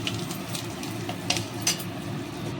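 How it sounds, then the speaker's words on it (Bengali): Dry red chilli, a cinnamon piece, two cardamom pods and cumin seeds spluttering in hot oil left from frying lentil fritters, a close crackling sizzle with a couple of sharp pops and a utensil clink. "বড়া ভাজার তেলেতেই একটা শুকনো লঙ্কা, এক টুকরো ডালচিনি, দুটো এলাচ আর একটুখানি জিরে ফোড়ন দিয়ে নিচ্ছি।"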